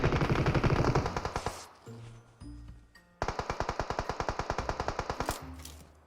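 Automatic gunfire in PUBG Mobile rattles out in two loud, rapid bursts of shots separated by a short pause, with a few isolated sharper reports in between and no voices.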